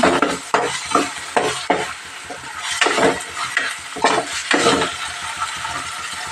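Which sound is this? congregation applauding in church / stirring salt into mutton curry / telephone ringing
stirring salt into mutton curry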